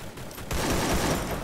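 Dense, continuous automatic gunfire from a UMP in a mobile shooter game's clash squad match bursts in loud and close after a brief quieter lead-in, sustained without pause to the end.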